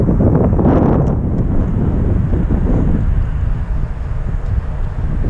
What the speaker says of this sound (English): This is so windy.